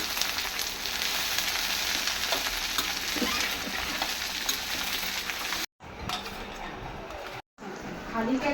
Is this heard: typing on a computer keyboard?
no